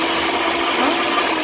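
Lemon juice is mixed into birthday cake batter: a loud, steady, close whirring with a broad hiss, like an electric mixer running continuously without pause.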